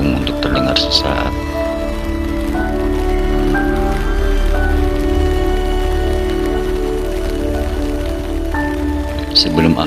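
Rain falls steadily on tents at the Cihulu campground, a dense, even hiss that holds throughout at full loudness, with sustained tonal sounds layered over it.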